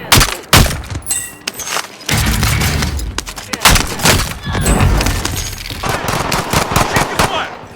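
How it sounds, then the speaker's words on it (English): Close, loud gunfire from the Warzone video game: rapid automatic bursts and single sharp shots, with booms and shattering mixed in and a brief lull partway through. "Shots incoming!"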